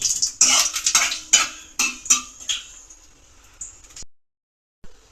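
A utensil scrapes and clinks against a pan in quick, close strokes as black cumin seeds fry and are stirred, then the stirring stops and near silence follows.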